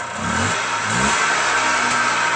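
A Polaris Trail Boss 250 ATV engine revs up as it pulls away, with a loud, steady mid-pitched drone and a couple of rising throttle surges, close by and without talk.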